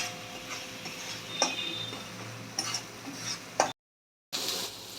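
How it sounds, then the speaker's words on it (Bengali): Spice paste with onion, ginger and garlic being stir-fried in oil, heard as a low, faint sizzle with a few sharp clinks of a spatula against the pan, then a brief silence before the sizzle returns. "মশলা আমার কষানো হয়ে গেছে"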